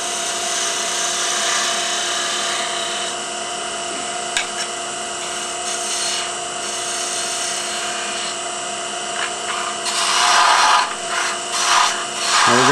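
A wood lathe spins a wine stopper blank while a gouge cuts it, giving a steady whirring hum with a bright rasping cut running throughout and rising in scraping bursts near the end.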